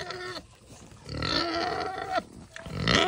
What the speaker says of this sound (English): Oh, these piggies. Look at these pigs.